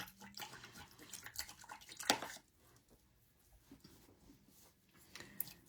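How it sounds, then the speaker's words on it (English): A paint brush swishes and clinks as it is rinsed in a small cup of water, with close splashy strokes for about two seconds, then quieter dripping and stirring. "Rinse my brush well."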